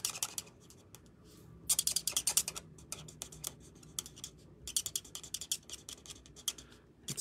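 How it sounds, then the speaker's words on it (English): Marker squeaking across paper in quick bursts of short, scratchy strokes, close and fairly faint, with pauses between groups of strokes while making a card. "It squeaks on the paper, doesn't it?"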